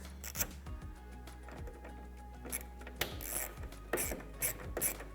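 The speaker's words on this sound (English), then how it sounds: "we'll take our 8mm socket and go ahead and get these snugged up" Close ratcheting clicks from an 8mm socket ratchet snug the taillight bolts on a 2020-2021 Jeep Gladiator, coming in short bursts of rapid pawl ticks with brief pauses between strokes and no talking.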